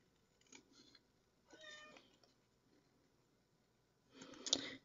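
A cat meows a few times in a quiet indoor room, faint to moderate and somewhat off-mic, with short cries spaced apart and a louder final call.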